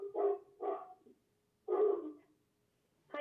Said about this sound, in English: Sorry, my dog's in the background.